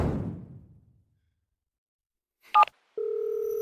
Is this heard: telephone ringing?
yes